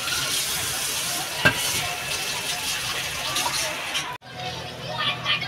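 Cumin seeds fry in a pan while Bengali chicken is being cooked, a loud, steady sizzle with a stir clatter. The sizzle drops suddenly near the end, then continues more quietly.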